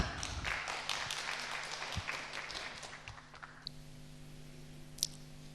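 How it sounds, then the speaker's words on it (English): An audience claps to welcome someone speaker at a spiritual talk, a dense patter of many hands that fades after a few seconds and gives way to quiet room tone. "We will welcome her. We can clap."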